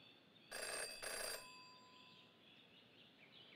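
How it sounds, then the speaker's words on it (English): A telephone ringing in the video game Jenny LeClue: two short bursts of a bright electric bell, evenly spaced, then a fading ring tail, fairly faint and alone. "Yeah, that phone's gonna keep ringing."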